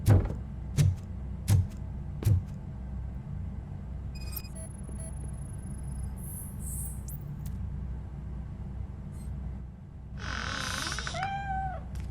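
A cat meows in the video game RoboCop: Rogue City, a short wavering cry near the end over a steady low hum, after several sharp thuds at the start.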